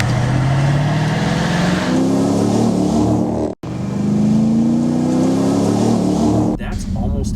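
A Dodge Durango SRT performance SUV accelerates hard, its engine note climbing loudly and continuously, then dropping abruptly at a quick gear shift before climbing again, with someone talking over it.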